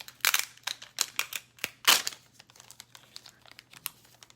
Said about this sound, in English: So it has a little tear right there, so you're just gonna rip it off